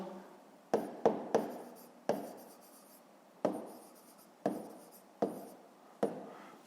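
Pen on paper writing math, a series of sharp taps and short scratchy strokes spaced irregularly over several seconds, close and quiet with no talking.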